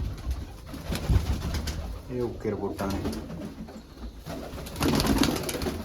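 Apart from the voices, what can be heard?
pigeons cooing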